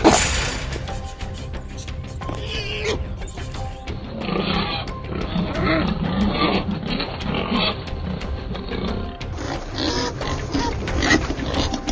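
Wild hogs in Texas grunt and squeal close by, a busy, continuous jumble of rough animal noises with occasional sharp knocks over a steady low rumble.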